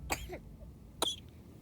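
A boy coughs in two sharp, harsh bursts about a second apart, close and fairly quiet, with near silence in between.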